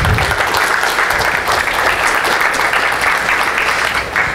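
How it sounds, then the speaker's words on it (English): Warm, loud applause from attendees at a Linux conference morning keynote, a dense unbroken wash of clapping filling the room for several seconds. "So give yourself a round of applause."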